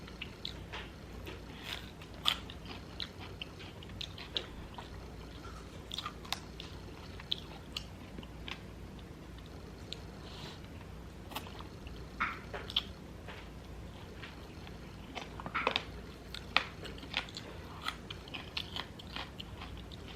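Air-fried chicken wings are bitten and chewed close to the microphone, with sharp crunchy bites and wet chewing scattered irregularly through a quiet room, no talking.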